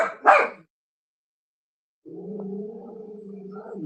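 A single sharp dog bark, then a pause and a drawn-out, whining howl-like vocalization from the dog, moderately close.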